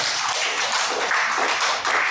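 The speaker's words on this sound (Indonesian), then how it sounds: "boleh tepuk tangan dulu buat ibu-ibu" Audience of women at an Indonesian religious talk clapping in steady applause, dense and continuous throughout, close and fairly loud with no talking over it.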